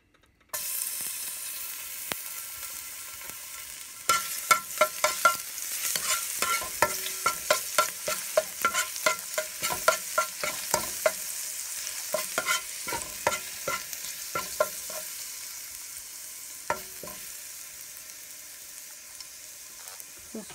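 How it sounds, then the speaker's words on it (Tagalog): Garlic sautéing in hot oil in a pan, a soft steady sizzle under repeated sharp taps and scrapes of a spatula stirring, nearby and without speech. "Pinainit ko na po yung mainit na mantika. Lalagay ko na po yung ating bawang."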